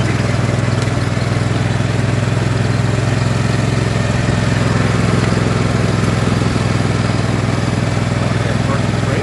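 A tractor engine runs continuously and loudly nearby on a deer-hunting property, a steady low droning idle throughout with no breaks.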